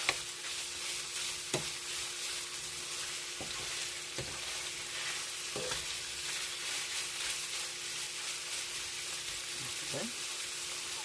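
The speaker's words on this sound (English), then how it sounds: "brown the meat. Yeah, fry the meat first." Pork for a squash stir fry sizzles loudly and continuously in a pan, with occasional sharp scrapes and clicks from stirring.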